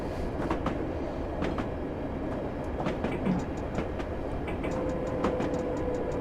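London Underground D78 stock train running, a steady rumbling roar with rhythmic clicking wheel-over-joint beats and a brief faint squeal near the end, heard from on board without talk.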